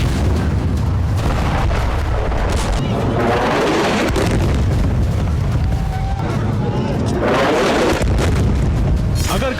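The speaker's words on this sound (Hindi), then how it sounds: "ये वीडियो बिल्कुल ताजा है जिसमें इजरायली फोर्स के हमले में बारूदी बवंडर" Heavy booming blasts from Israeli military strikes in Gaza, loud and continuous with rolling low rumbles and repeated surges of explosive roar throughout, no clear voices.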